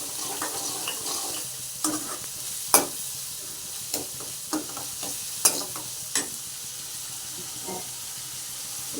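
Mustard seeds and spices sizzle and crackle in hot oil for tempering a vegetable dish, under a steady hiss, with several sharp clinks of a spoon stirring the pan.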